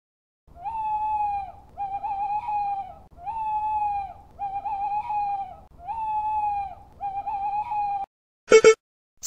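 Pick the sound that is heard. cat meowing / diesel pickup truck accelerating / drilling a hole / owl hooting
owl hooting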